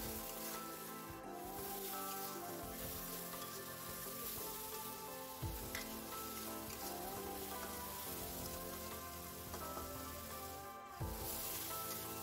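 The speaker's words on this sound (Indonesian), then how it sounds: "sekarang kita masukkan semua bumbunya. Kita tumis kembali sampai bumbunya ini layu dan harum ya." Spice paste being stir-fried in a hot pan for an Indonesian eggplant dish, giving a steady, dense sizzle with soft scraping stirs throughout, close and continuous with no talking.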